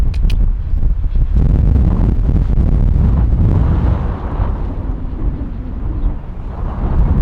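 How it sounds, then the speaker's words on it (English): Strong wind roars steadily across the microphone with deep rumbling buffeting, loud and continuous throughout, easing slightly toward the end. "Freaking windy out here."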